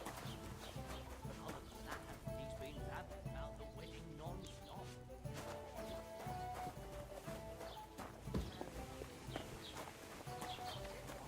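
Horse hooves clip-clop at a steady walking pace in the medieval video game Kingdom Come: Deliverance II, with soft game music and ambient sounds underneath.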